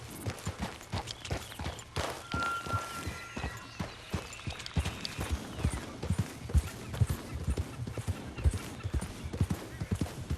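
Horse hooves clip-clop steadily up a hill in Red Dead Redemption 2, a continuous run of close, punchy hoofbeats with a brief tonal sound and some scattered game noise mixed in.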